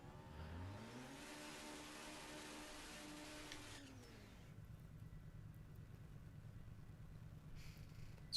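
A ProCharger-equipped drag race car in the No Limit 2 racing game revs up through rising engine pitches with quick shifts, then drops to a low, steady drone as the run continues.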